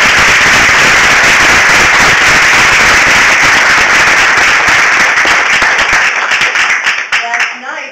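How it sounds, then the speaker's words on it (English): Loud, dense applause and clapping for graduating students fills the room continuously, then thins out and fades over the last second or two. "So let's give them a round of applause."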